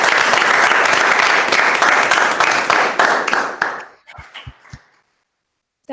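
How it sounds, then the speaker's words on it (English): Round of applause at a team meeting for the Sidekick team, dense clapping filling the first four seconds, then tapering to a few scattered claps before fading to silence. "Again, round of applause for the Sidekick team."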